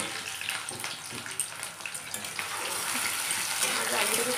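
Fried rice sizzles and crackles steadily in a hot pan, a dense hiss that grows slightly louder toward the end, close up with faint kitchen sounds.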